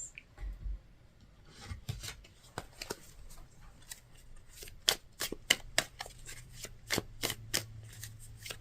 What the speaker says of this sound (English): She's scratching at the door. That's what that noise is.